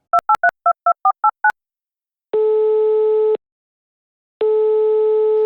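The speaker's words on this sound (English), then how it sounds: "I'm going to put a call in to Alexandra Chirica" A phone dials out with a quick run of eight touch-tone beeps, then two long ringback tones sound with a pause between them while the call waits to be answered. The tones are clean and steady, and no voices are heard.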